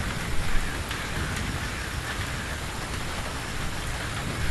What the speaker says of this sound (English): Could I persuade you to come out of the rain, Flora?